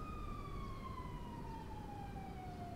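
A police car siren in GTA V wails steadily throughout, its falling tone sliding downward as the vehicle draws near, over a continuous low rumble of engine and road noise.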